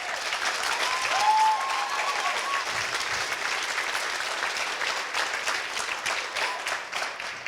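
Wedding reception guests break into sustained applause during a speech, a full, even roar of clapping from a roomful of people with a brief whistle early on.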